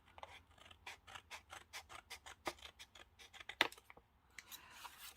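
Scissors snip through paper in a quick, even run of about twenty crisp cuts, close and fairly quiet, with a soft rustle of paper afterward.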